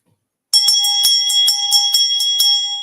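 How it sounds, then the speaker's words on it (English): A victory bell rings out loudly after a half-second of silence, struck in a quick, slightly uneven run of about a dozen bright metallic hits whose tones ring on and overlap, with no talking. "I'm ringing the victory bell in advance of your Monday victory."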